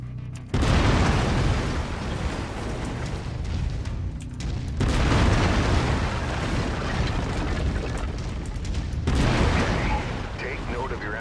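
A mech's autocannon in Mechwarrior 5: Mercenaries fires in three long, loud rumbling barrages of heavy booming shots, with a voice talking over the din at times.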